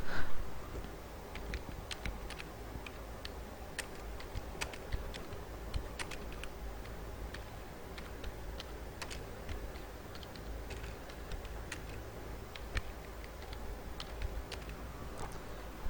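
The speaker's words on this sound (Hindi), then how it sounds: "कीबोर्ड की हेल्प लेके आपको टेक्स्ट को टाइप करना है" Computer keyboard keys tapped while typing text into a word processor, a steady run of light, uneven clicks over a quiet room background for the whole stretch, with no voices.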